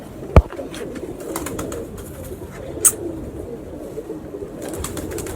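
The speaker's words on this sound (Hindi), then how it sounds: "तीनों केजेस में माशाल्लाह एक से एक बढ़ के कबूतर है यहाँ पे" Caged breeder pigeons coo softly and intermittently in a low murmur, with a sharp knock near the start and a brief high chirp, fairly close with no talk.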